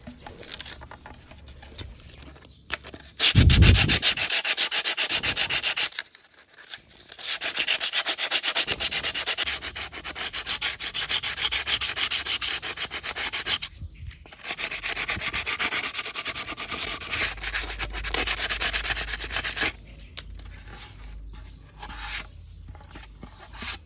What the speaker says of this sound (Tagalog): gumamit ako ng sandpaper na may 120 grit para gasgasin yung part na lalapatan ng fiber cloth at resin